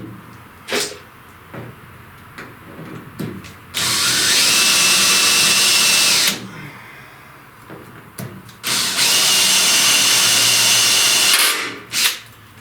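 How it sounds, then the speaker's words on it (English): Power drill boring pilot holes into the firewall of a 1930–31 Model A Ford: two sustained loud whines of a few seconds each, separated by handling clunks and taps, close up and dominant. "So let's drill some pilot holes."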